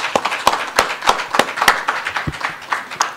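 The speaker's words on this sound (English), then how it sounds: "give that a round of applause?" Audience at a union conference applauding with distinct, irregular claps close by, a small crowd clapping steadily for a few seconds without talk.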